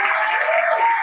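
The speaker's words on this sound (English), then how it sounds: "a round of applause for Anel" Brief burst of steady applause from a gathered crowd at a queer community event, dense and even throughout with no voices standing out.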